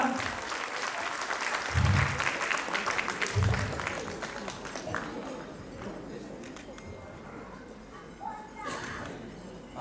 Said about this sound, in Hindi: एक बार जोरदार तालियों से इनका स्वागत करें सबका।